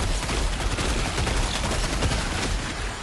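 Sentry turret in Helldivers 2 firing rapid continuous automatic bursts, dense and loud, with no pause across the whole stretch.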